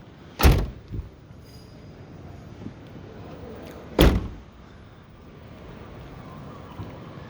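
Sliding side door on a Knaus Boxlife 540MQ camper van, two sharp rolling slams a few seconds apart, each a loud close thud with a brief rattle after, outdoors with light wind between.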